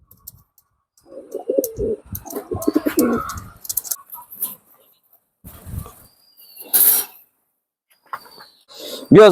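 Tula pigeons from Khulna coo in short, soft bursts close by, mixed with chirps, flutters and handling noises; someone talks intermittently over them.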